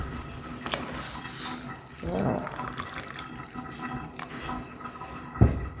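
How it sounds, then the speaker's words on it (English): Milk poured into a pot of boiling Kenyan spice tea with ginger and rosemary, a short liquid pour and bubbling splash over a steady simmer, close and moderate in level. "So we go in with our milk."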